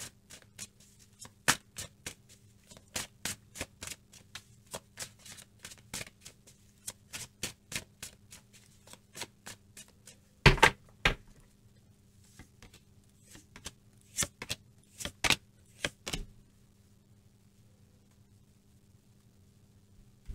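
A deck of tarot cards is shuffled by hand in a quiet room, making a run of crisp riffling and snapping bursts in quick irregular clusters, louder in the middle, then silence.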